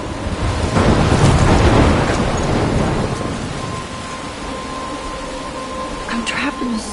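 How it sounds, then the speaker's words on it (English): Thunderstorm in the video game Life Is Strange: heavy rain hisses steadily while a loud roll of thunder rumbles early on, easing into a softer downpour with a faint tonal hum and a small rattle near the end. "I'm trapped in a storm?"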